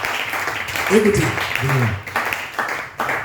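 A church congregation applauding in worship, with clapping spread through the room under a voice speaking over it.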